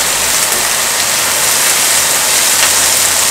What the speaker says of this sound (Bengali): পেঁয়াজটা সামান্য একটু ভেজে নিব